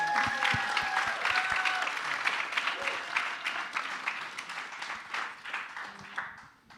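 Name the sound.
audience applause at a short film premiere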